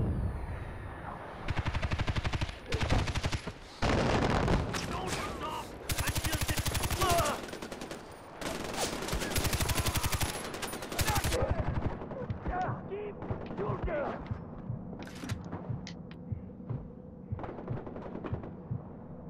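Gunfire rattles through a Far Cry 4 firefight, dense bursts and single shots clustering in the first half, then thinning to sporadic cracks over a lower rumble, with a voice talking at times.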